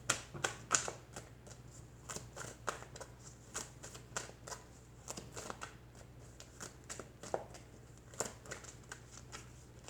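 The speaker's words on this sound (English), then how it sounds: "We're pulling a card on that." Tarot cards shuffled by hand in quick, crisp riffling bursts, repeated at a steady rhythm, close and fairly quiet, with no talk over them.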